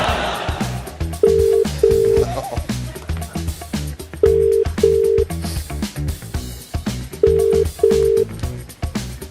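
A telephone call is placed on a live television footy show, with regular paired ringback tones repeating three times over a busy studio murmur and clattering background noise.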